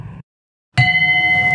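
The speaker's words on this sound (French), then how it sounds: "C'est le son de cloche qui a lancé les hostilités de la première réunion statutaire" A single bell is struck at the opening of a Rotary club statutory meeting in Benin, ringing out clearly with a sustained metallic tone after a short murmur and a brief silence.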